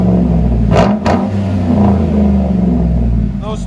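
A 2012 Chevy Avalanche's 5.3L V8 with dual straight-pipe exhaust rumbles loudly up close, rising and falling through a few revs while people talk over it.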